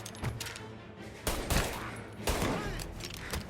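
Loud gunfire from the video game Mafia: Definitive Edition, with several close bursts of rapid shots and echoing reports over a dense battle backdrop.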